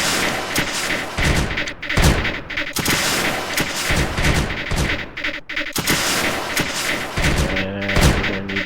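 Dense, continuous rattle of blaster fire from towers in the Creeper World 2 strategy game, with rapid overlapping shots and thumps forming a steady barrage at a constant loud level with no speech.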